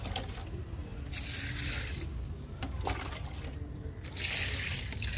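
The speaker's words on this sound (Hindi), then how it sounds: "अब पौधों को पानी डाल दिया जाए।" Water poured onto potted plants outdoors, a steady trickling and splashing that surges in bursts over a continuous low background hum.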